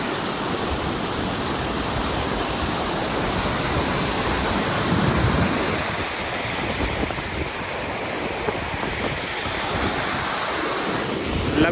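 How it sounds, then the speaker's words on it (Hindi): A loud, steady roar of rushing water pours down continuously with no pauses, close and dense, like a large waterfall heard up near it. "तो एकदम झरने से एकदम आवाज़ आ रही है"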